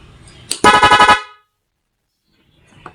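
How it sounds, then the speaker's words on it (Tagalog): Double contact car horn in rapid horn mode, one loud close burst of fast repeated honks lasting about half a second, then silence. "rapid horn yan."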